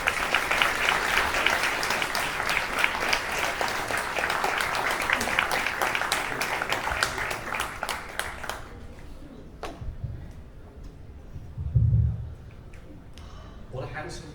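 Warm applause from a conference audience in Cannes welcoming a panel of speakers, steady and full for about eight seconds before fading, followed by quieter room sounds and brief talk.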